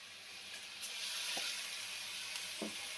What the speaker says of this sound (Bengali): চালটা দিয়ে আমি কি করব, ভালো করে নেড়ে নেবো।